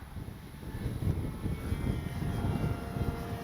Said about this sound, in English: Plane really looks good in the air.